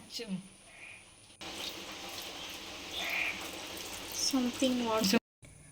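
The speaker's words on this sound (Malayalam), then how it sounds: "ബീഫിക്കുള്ള വെള്ളമൊക്കെ ഒഴിച്ച് കൊടുത്തു" Water is poured into a pot of beef being cooked for beef pickle, a steady splashing run lasting several seconds, with a voice talking over the start and the end.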